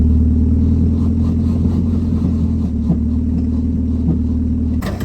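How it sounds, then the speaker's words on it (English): A diesel Jeep Liberty's engine rumbles loudly under steady throttle, with a tire spinning freely, holding a constant drone before dropping off near the end. "That tire's just floating and spinning."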